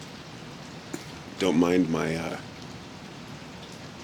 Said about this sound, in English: It's 6 a.m. in Portland and it's raining.